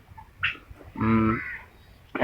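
Turkeys on a poultry farm call out in a few short, nasal honking and gobbling bursts, fairly close, separated by quiet gaps.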